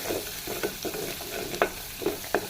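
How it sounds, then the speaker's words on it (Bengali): Prawns frying with onion, chili, ginger-garlic paste and turmeric, stirred in a hot pan: a soft steady sizzle under several distinct scraping strokes of a spoon. "এবার এটাকে নাড়বো।"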